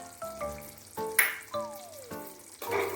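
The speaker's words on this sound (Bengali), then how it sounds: "দিয়ে বেশ কিছুক্ষণ আবার চিকেনটাকে কষিয়ে নেব" Chicken cooking in a pan with tomato ketchup for kasturi methi chicken gives a sizzle that comes and goes in short bursts under tonal, musical background sounds.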